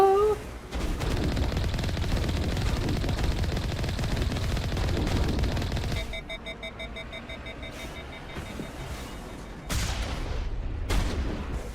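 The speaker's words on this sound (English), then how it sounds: "Point blank cannon fire." Point-blank cannon fire in the video game Mass Effect; dense, loud rapid blasts and rumbling impacts dominate, then drop to a thinner ringing stretch before a few more sharp bursts near the end.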